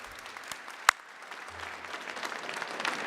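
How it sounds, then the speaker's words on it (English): Outdoor crowd applause at an Irish flag raising for St. Patrick's Day, a scattered, moderate clapping with one sharp close clap standing out early, building slightly and continuing steadily to the end. "we do want to give a round of applause to Mary"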